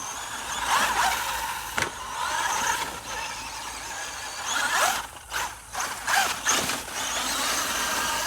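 A Traxxas UDR RC truck fitted with aluminum steering drives steadily nearby, its motor whining and its gears and suspension rattling. The sound surges in several quick pulses partway through.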